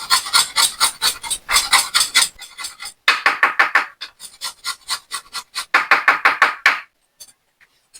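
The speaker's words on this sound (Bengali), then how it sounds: "কিছুটা আদা ঘষে নেবো।" Fresh ginger being rubbed against a metal grater in a home kitchen, bursts of quick rhythmic rasping strokes, close and crisp, with short pauses between runs.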